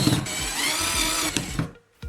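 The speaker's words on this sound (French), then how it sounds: "Placez le raccord au centre du tuyau et fixez-le avec 2 vis." A power tool driving screws into a plastic pipe fitting at the centre of a pipe, a continuous close whirring buzz for over a second, then brief clicks, a short silence and a final burst.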